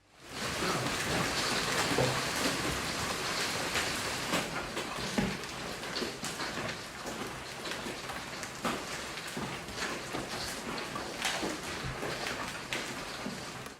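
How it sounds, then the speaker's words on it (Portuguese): Huge hailstones pelt a backyard swimming pool during a June 2023 Texas storm, making a dense, continuous splashing patter with sharper individual impacts scattered throughout. "São respingos de enormes pedras de granizo."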